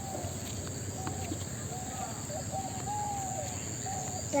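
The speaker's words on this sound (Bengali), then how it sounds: "আর ঘুঘু পাখির ডাক" A dove coos in short, repeated calls over a steady insect hum on a winter morning in a village, while a person talks throughout.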